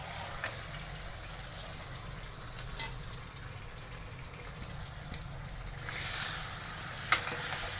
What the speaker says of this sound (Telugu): అల్లం వెల్లుల్లి పేస్ట్ ఫ్రై అయ్యాక మనం ముందుగా మ్యారినేట్ చేసి పెట్టుకున్న చికెన్ని ఇందులో